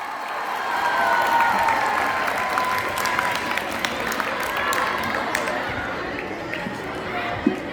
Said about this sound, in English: I request the audience to give them a huge round of applause.